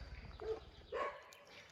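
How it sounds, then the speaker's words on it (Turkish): Two short barks from a dog some distance away at a night campsite on the coast, separated by a brief pause, over a faint low background rumble. "Köpekler havlıyor."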